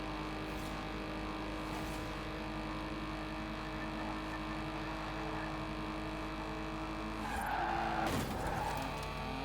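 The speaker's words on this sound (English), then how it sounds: "What a good drift." A car drifts in the racing video game Forza Horizon 4, a steady droning engine hum with layered tonal whine, then a rising tire squeal and skid swelling near the end, fairly faint overall.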